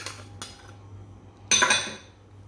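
Spoon clinking and scraping in a bowl of fruit chaat made with grapes, chopped guava, pomegranate and chopped dates: a couple of light taps, then a louder burst of mixing near the end, with no talking.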